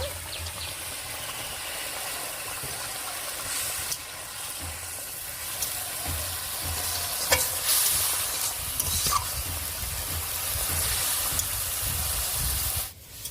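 A spoon stirs egg curry simmering in a pan, scraping and rubbing against the metal over a continuous sizzle, with occasional louder knocks; no voices.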